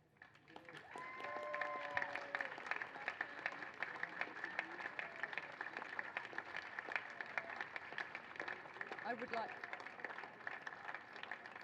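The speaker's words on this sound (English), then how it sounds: "an extra big round of applause for the coach that we all love" A crowd at a women's regatta awards ceremony applauds with sustained, even clapping that rises quickly and holds, while a voice speaks briefly over it.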